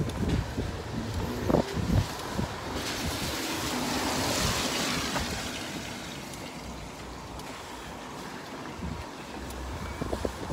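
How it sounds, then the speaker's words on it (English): Gusty wind outdoors in Japan buffets the microphone, a rough roaring rush that swells loudest in the middle and eases toward the end, with a few low thumps and no speech. "Quite windy."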